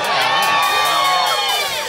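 A live crowd cheers at the KROQ Coachella House, a loud, dense mix of whoops and high shouting voices sustained for a couple of seconds, close and energetic.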